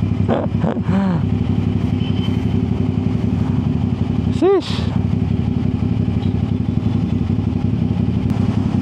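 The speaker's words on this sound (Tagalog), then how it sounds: "Ayan, so nag-i-start na, mag-build up yung init, no, sa makina." A CFMoto 450 motorcycle engine starts and warms up, idling steadily and close by, a low continuous rumble, with a brief voice exclamation near the start and a short whistle-like sweep midway.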